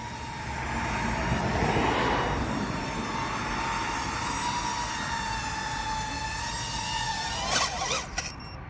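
An Astro RC Carbon Fly 25 FPV drone flies outdoors in cold weather, its high whining propellers droning steadily at moderate distance, pitch wavering and rising near the end.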